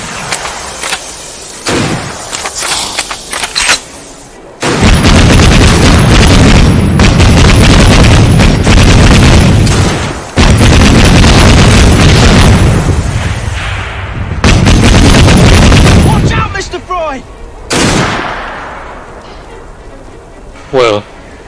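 Gunfire and booming blasts from a street firefight in Assassin's Creed Syndicate, loud dense bursts in long stretches with brief pauses between, a voice talking over parts of it.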